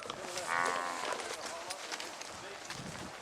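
Cattle on a high country cattle drive, with a clear moo near the start over an outdoor wash of hoof and movement noise, while people shout and call to the herd.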